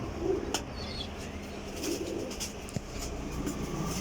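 Flying pigeons coo softly in the background among a murmur of distant rumbling and a few sharp knocks, with no voices.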